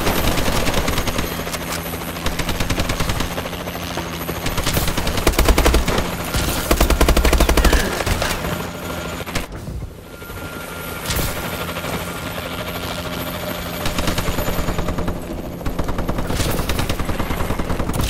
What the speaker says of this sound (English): Enemy warbird above